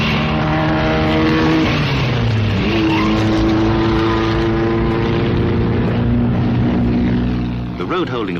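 1922 French Grand Prix Fiat racing cars roar past with loud, high-revving engines, the pitch sliding as they speed by and fading slightly at the end.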